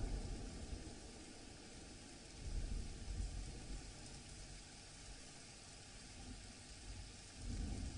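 Rain with thunder during a monsoon storm on the Kerala coast: a steady, dense wash of rainfall and wind noise, with deep rumbling swells of thunder rising around the third second and again near the end.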